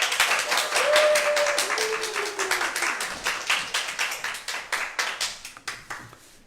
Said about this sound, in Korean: 오늘 말씀 이순일 목사님 나오셔서 선포해 주시는데 큰 박수와 환호 부탁드리겠습니다